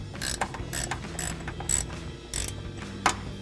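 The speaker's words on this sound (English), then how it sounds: "Now we can come back with a 13mm wrench and tighten that down." Sharp rhythmic ratcheting clicks in about six quick bursts, close and clear, as a 13mm wrench tightens a running-board bolt on a Toyota Tacoma.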